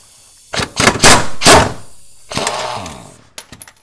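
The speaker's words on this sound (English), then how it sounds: "I am going to use an impact, but use a 6-point socket too" An impact wrench fitted with a 6-point socket backs out cross member bolts on a Subaru WRX, giving several short, loud hammering bursts separated by brief pauses, with a final quick rattle of clicks.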